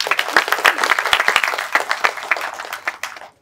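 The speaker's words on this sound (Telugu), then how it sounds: "ప్లీజ్ క్లాప్స్ డైరెక్టర్ గారికి." Audience applause for the director at a movie trailer launch event: a dense, loud wave of clapping from a crowd, holding steady for several seconds before tapering off near the end.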